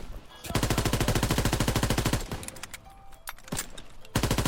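Rapid automatic gunfire in the Call of Duty WWII video game, loud and steady in two long bursts separated by a quieter stretch with scattered single shots, then resuming abruptly.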